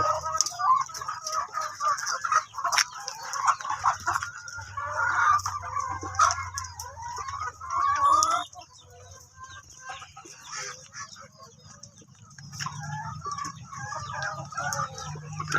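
Chickens in a coop at morning feeding time cluck and squawk busily at close range, with overlapping calls and occasional crowing, quieting briefly in the middle before picking up again.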